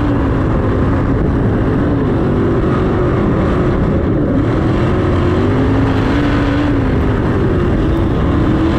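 A 410 sprint car races at about 110 mph on the dirt oval at Eldora Speedway. Its engine roars loud and close without a break, and the pitch wavers slightly through the lap, with no one talking.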